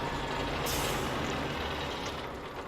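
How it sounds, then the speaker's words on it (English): A truck in the SnowRunner video game hisses with a loud air-brake release as its engine shuts off, a steady low rumble fading under the burst of air. "Kill the engine."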